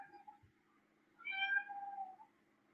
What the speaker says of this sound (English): I don't think my cat agrees with you. Rob said Colt, and he started meowing his head off.